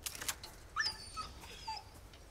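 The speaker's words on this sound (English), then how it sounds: "Doggy? Is that a dog?" A dog whimpers and yips in Resident Evil 4 Remake, a few thin, high whines and short cries, fairly faint and sparse over a quiet game backdrop with no talk.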